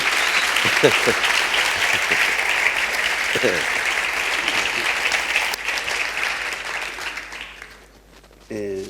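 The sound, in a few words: audience applause at a poetry event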